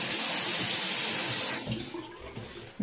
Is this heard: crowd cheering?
no